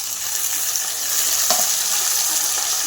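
Tomatoes frying in a pan for keema, a steady loud hiss of sizzling oil with one brief stir or clink partway through, no talking.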